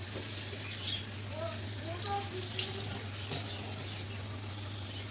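Water is poured into masala cooking with tomato in a pan for an Odia potato curry, giving a soft trickling splash and mild sizzle under a steady low hum.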